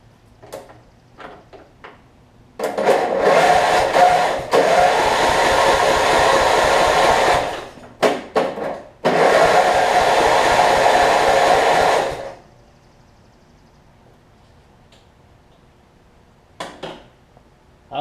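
A Murray rear-engine riding mower with ignition trouble cranks over in two long bursts of loud whirring, broken by short clicks and bumps, then falls quiet with a few faint knocks.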